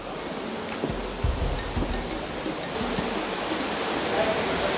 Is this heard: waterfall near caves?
yes